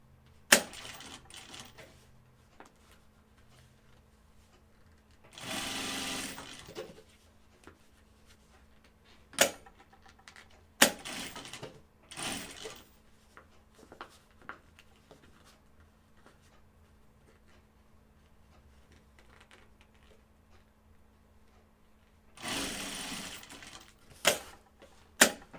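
A sewing machine stitches pleats on fabric pockets in short bursts, with two longer runs near the start and end and brief clicks between, in a quiet room.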